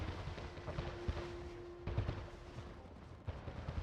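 Ship cannons firing in the Anno 1800 strategy game, a scatter of dull booms and thuds spread irregularly through a low rumbling battle background, fairly faint and distant.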